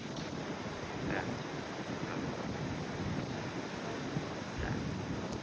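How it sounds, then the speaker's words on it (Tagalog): Strong ocean waves and gusting wind roll across an open cruise ship deck mid-ocean, a continuous broadband roar buffeting the microphone with no voices. "Lakas ang alon."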